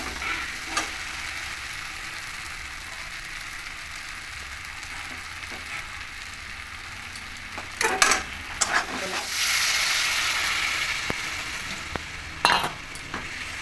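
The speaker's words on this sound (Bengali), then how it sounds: "এবার আর একটু কষিয়ে নেবো নেড়ে চেড়ে।" Fried pointed gourd being stirred and sautéed in a pan for a prawn and pointed gourd dish: a continuous low sizzle with scattered scrapes and clinks of a utensil, busier stirring bursts near the middle and end.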